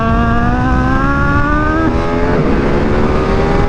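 A 2022 Ducati Streetfighter V2 motorcycle accelerating hard on a race track, engine loud and close, rising steadily in pitch, then a brief dip at a gear change before it pulls on again.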